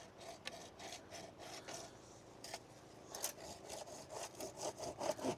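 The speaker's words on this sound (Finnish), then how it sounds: "again the saw is being used in areas where it might not be suitable to be used" Hand saw cutting through wood at an outdoor construction site where French drains are being dug, with steady repeated back-and-forth strokes that grow louder and more forceful toward the end.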